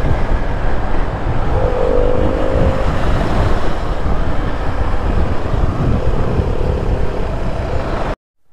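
A car climbs a winding mountain road near Vattavada, Munnar in Kerala, its engine droning loud and steady with rumbling road noise throughout, then cutting off abruptly at the end.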